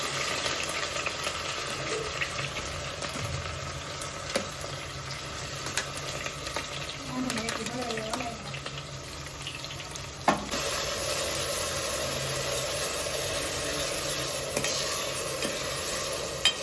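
Chopped onion sizzles and fries in hot oil for khichdi, a steady close crackle with occasional stirring scrapes, no voices.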